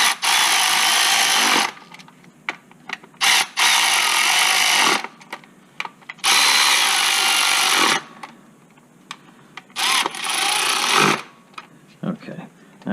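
A power tool whirs in several bursts of a second or two, with pauses between, while spark plug coil bolts are tightened down on a Hyundai Accent engine; a voice speaks during the gaps.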